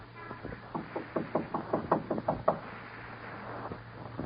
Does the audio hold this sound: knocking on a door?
yes